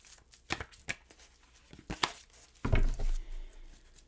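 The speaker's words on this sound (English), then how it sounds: "I'm going to shuffle and deal you an Angel Oracle card." Angel oracle cards are shuffled by hand in several quick papery riffles and snaps, close and fairly soft, ending in a longer rustling shuffle, with no talk.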